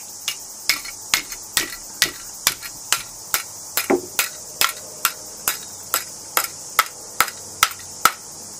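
Sharp hammer blows ring out on sheet metal as a flange is bent over for a bracket, a steady run of about twenty evenly spaced strikes, close and clear over a faint hiss.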